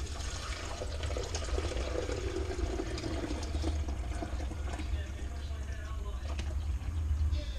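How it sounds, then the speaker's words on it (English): Water is poured steadily into a cup over tea, a continuous splashing rush lasting several seconds alongside faint background talk. "then you dump the water in"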